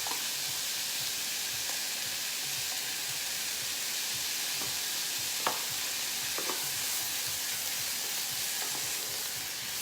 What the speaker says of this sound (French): Dès que mon jambon a bien saisi